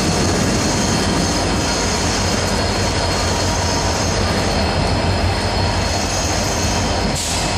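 A freight train passing on a single railway track at the Torrens rail junction in Adelaide, a loud, continuous rumble of wagons close by with wheel squeal and clatter throughout.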